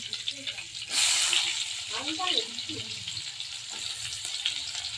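Prawns and chopped onion dropped into a hot pan, a loud burst of sizzling that settles into steady frying, with a voice talking over it.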